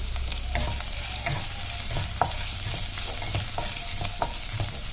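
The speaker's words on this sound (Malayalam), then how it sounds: "ഈ എണ്ണയ്ക്കകത്ത് കിടന്ന് ഈ ഇഞ്ചി ശരിക്കും മൂക്കണം." Chopped ginger fries in hot oil for okra pachadi, a steady close sizzle with repeated stirring scrapes and light clicks of a spoon, no voices.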